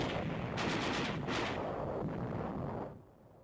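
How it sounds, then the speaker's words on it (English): Enemy small arms and mortar fire strike in wartime combat as Australian infantry, backed by alligator tanks, push inland past blazing buildings and oil installations; a dense, continuous roar of gunfire and blasts, with sharper bursts near the start, cutting off abruptly near the end. "Enemy small arms and mortar fire is encountered by the Australians"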